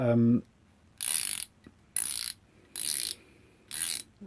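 A cheap ratchet spanner from a tool set clicks in four quick bursts of rapid ratcheting with short pauses between, close and clear, after a brief bit of speech at the start.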